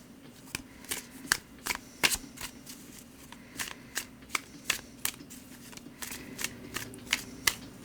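Tarot cards being shuffled by hand, a steady run of crisp riffling bursts and soft slaps, close and fairly quiet, with no talk.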